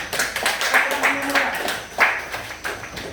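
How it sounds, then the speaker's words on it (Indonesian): Classmates clap for a student during a teaching-practice lesson. The claps come in short rhythmic bursts mixed with the chatter of children's voices. "Kasih tepuk tangan untuk Putri, ya."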